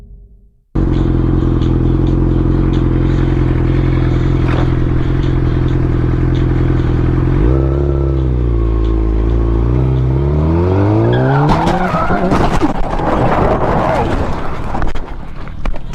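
A motorcycle pulls away across an intersection and crashes: a steady loud engine drone shifts pitch as it accelerates, then breaks into harsh clattering, scraping crash noise, all close and without talk.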